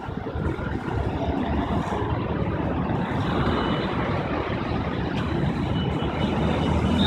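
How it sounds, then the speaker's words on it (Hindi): A steady, rumbling three-cylinder Massey Ferguson tractor engine runs continuously at close range, a dense low throb holding an even level throughout with no voices. "तीन सिलेंडर इंजन है आवाज़ बड़ी गजब है इसकी"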